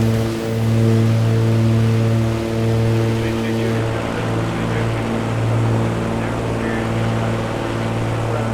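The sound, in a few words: propeller airplane engine in a flight simulator video game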